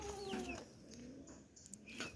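Chickens cluck and call in the early morning at a small home poultry house, several faint, scattered bird calls over quiet background hiss.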